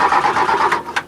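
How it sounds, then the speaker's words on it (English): A car engine cranks but fails to start, a rapid pulsing starter churn lasting about a second that dies away without catching. "And this couple still couldn't get their car to start."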